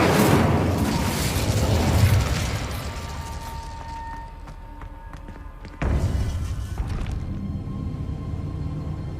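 An Incendio fire spell blast in Hogwarts Legacy erupts as a loud, roaring burst that slowly fades, then a second abrupt whoosh flares up and carries on as a steady rushing hiss.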